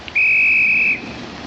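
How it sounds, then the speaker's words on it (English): A single sustained train whistle, steady and clear, lasts just under a second as a steam-era train at a station starts to leave, then cuts off abruptly. "I was listening for the sound of his train starting"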